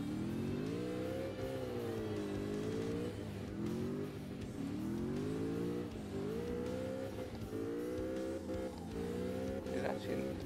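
A car drifting in CarX Drift Racing Online holds a steady, buzzing engine note that rises and dips in repeated revving waves throughout. A person talks over it.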